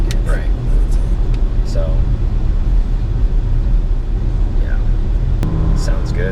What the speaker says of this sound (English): When even the 250 horsepower, just when it hits that high shift, it sounds really good.